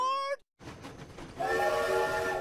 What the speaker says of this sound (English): come on along with me on the dinosaur train